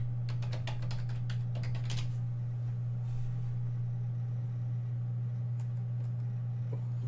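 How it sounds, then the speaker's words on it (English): Computer keyboard keys clatter in quick irregular bursts during the first two seconds, then a few scattered taps follow over a steady low electrical hum. "so let's type Globe and Mail"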